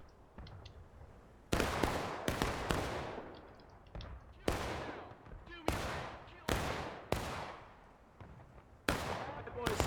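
Musket volleys crack out in the Civil War game War of Rights, a string of loud, sharp shots with long echoing tails, some close together, spread across the battle.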